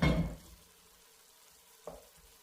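Chopped onions and celery cooking in a pot: a brief loud stir and rustle at first, then a quiet steady sizzle with a single soft clink near the end.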